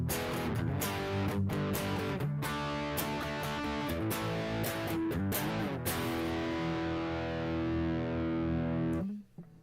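A heavily distorted electric guitar through a Boss ME-80 multi-effects pedal plays sustained, gritty chords, loud and saturated throughout, then cuts off abruptly at the end.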